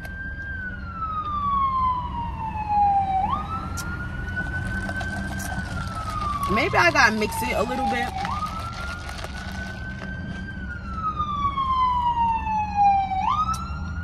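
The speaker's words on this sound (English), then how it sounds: "excuse the sirens" Emergency vehicle sirens wail in repeated slow rising and falling sweeps, fairly close, with a brief burst of other traffic noise midway and a person speaking briefly over them.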